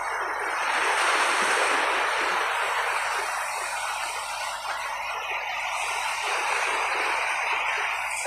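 Ocean waves wash steadily onto the beach at Dipakulaw, a continuous broad roar of surf close by with gusts of wind buffeting the microphone and no talking.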